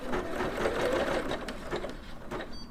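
A Singer Legacy SE300 sewing and embroidery machine stitches close by with a continuous, even mechanical whir and rapid needle chatter.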